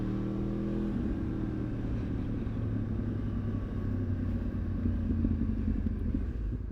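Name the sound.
motorcycle engine revving while rev-matching gear shifts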